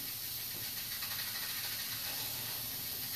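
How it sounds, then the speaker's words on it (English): An Instant Pot pressure cooker vents steam while corn chowder cooks, giving a steady, loud, broadband hiss that runs unbroken through the whole stretch with no voices. "that's my Instant Pot releasing the steam, which means it's almost done."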